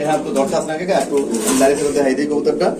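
Cooing of a red Lahori pigeon at a pigeon market stall, soft repeated coos under continuous nearby talk and crowd chatter.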